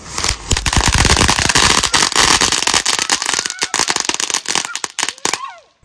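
A firecracker bomb goes off with a loud, dense crackling barrage of rapid pops that runs for several seconds, then thins into scattered bangs before fading out.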